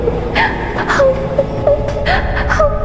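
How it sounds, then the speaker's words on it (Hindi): Woman crying on a haunted train, soft whimpering sobs and short wavering wails that come and go in brief bursts, fairly close, with no words spoken. "तभी अजीत को एक औरत के रोने की आवाज आने लगती है।"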